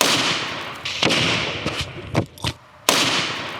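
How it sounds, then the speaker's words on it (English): Several sharp, loud blasts crack close by, one after another with irregular gaps, the last one cutting off sudden silence. They come from small M80 firecrackers exploding outdoors. "Little tiny M80."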